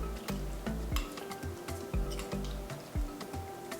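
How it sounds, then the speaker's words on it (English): Parmesan or Romano cheese being stirred into chicken escarole soup, with a spoon knocking against the pot in a steady series of soft clinks and dull thumps, close by, under faint liquid sloshing. "First, I'd like to mix it."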